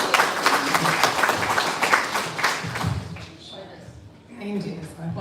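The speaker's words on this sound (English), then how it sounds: "Please give a round of applause" Audience applause at a holiday reception and donor advisory board installation: a dense burst of clapping for about three seconds that fades and thins, with voices murmuring underneath.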